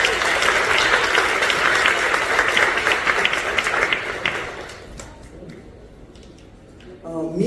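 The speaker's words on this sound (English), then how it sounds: "Please give him a round of applause." Theater audience applause at a talent and fashion show, welcoming a sports coach: broad, lively clapping for several seconds that fades out, followed by quieter room sound and a few taps.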